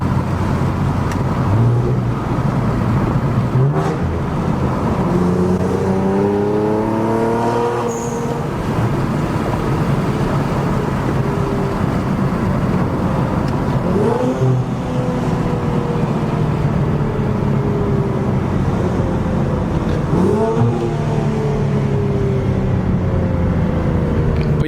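Infiniti Q60 fitted with AMS full downpipes, its exhaust rising in several rev sweeps over a steady loud road and engine drone, with repeated climbing and falling pitch across the stretch.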